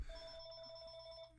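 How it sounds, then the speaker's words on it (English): A telephone rings with a single sustained electronic bell tone for an incoming call, fairly faint and alone, fading out near the end. "I'm getting a phone call now"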